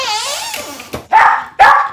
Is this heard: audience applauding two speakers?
no